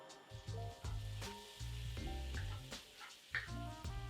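Garlic and onions are thrown into a hot wok over a gas flame and hiss and crackle steadily, with sharp spits and stirring clatter, heard close and fairly quiet with no talk.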